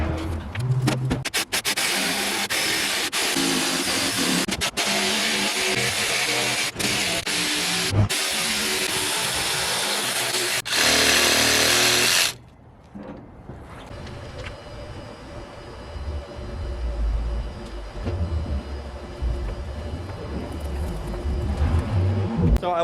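Jigsaw cutting through a Silverado tonneau cover, a loud, steady rasping buzz for about twelve seconds that stops abruptly, followed by quieter handling and rattling noise.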